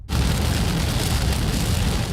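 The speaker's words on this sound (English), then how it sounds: "Rain coming down so hard at times" Heavy rain pours down during a powerful Northern California storm, making a dense, steady roar that fills the whole stretch, close and loud, with no voices.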